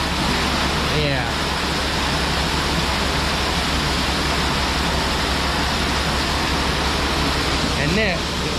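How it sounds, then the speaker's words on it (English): Water pours in a heavy, steady roar from a 2000-gallon F650 water truck into a tub, a loud broadband rush that holds constant throughout, with brief voices near the start and end. "this is how you get a tub filled in under 2 minutes"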